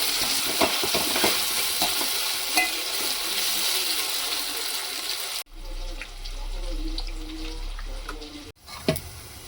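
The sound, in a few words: ginger paste being stirred and fried in oil in a pan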